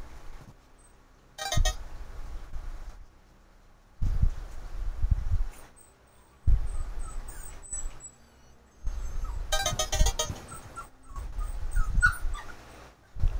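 Dogs in a kennel whimper and whine in several short bursts separated by quiet gaps, fairly close.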